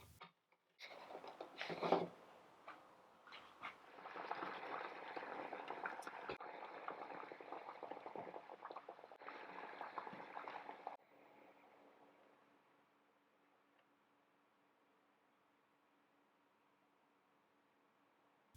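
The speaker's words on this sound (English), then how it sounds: "A very important step to anodizing aluminium is boiling the part after the dyeing process is finished, as this seals the colour in." Anodized aluminium part boiling in a pot of water to seal in the dye: a brief clatter, then a soft bubbling hiss for several seconds before it falls silent.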